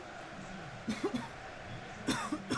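A man coughs in two short clusters of three or four harsh barks each, close to the microphone, during commentary on a football career-mode video game, with quiet game sound underneath.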